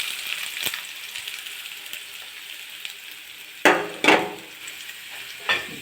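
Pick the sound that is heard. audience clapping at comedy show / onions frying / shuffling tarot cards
onions frying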